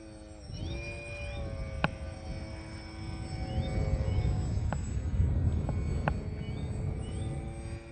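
A Sig Kadet radio-controlled model airplane on its maiden flight gives a faint, steady whining drone that wavers in pitch, heard from a distance over low background rumble with a few sharp clicks.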